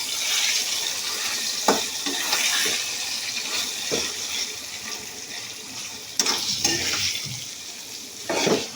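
Garlic and onion sizzle in hot oil in a home kitchen, a steady bright hiss broken by occasional stirring clatters from a utensil in the pan, with no talking.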